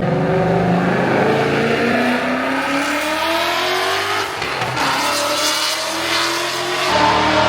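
A modified 2024 Ford Mustang 5.0 V8 with long-tube headers roars through twisting Smoky Mountain corners, revving hard and loud throughout, with the engine note rising and falling between bends.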